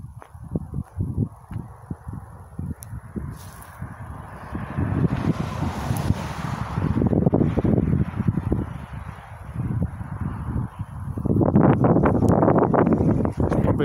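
Wind buffets the microphone in rough, rumbling gusts, growing stronger midway and again toward the end, with no one speaking.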